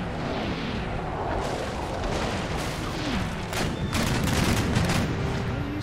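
Naval cannon fire loosing chain shot in the Empire: Total War battle against Scotland, a steady rumbling barrage of overlapping booms and crackling blasts that rolls on continuously with a slightly heavier swell near the end.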